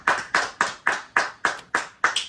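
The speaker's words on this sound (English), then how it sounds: "All right, now we need to stand up and applaud." Hands clap in a studio in a steady, evenly spaced run of about eight loud, crisp claps, close to the microphone, with no voices over them.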